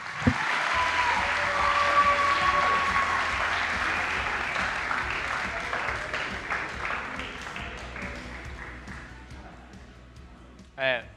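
Audience applause for coaches at a resume-writing workshop session, a long steady spell of clapping from a room of people that slowly tapers off, with a burst of voice at the very end.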